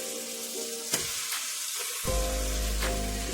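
A pan sizzling steadily as kangaroo meat is sautéed, with a sudden louder surge of frying partway through that stays strong to the end.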